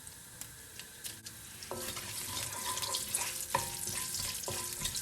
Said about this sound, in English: Once it is sizzling, I'm going to add 2 to 3 red chilies dried out.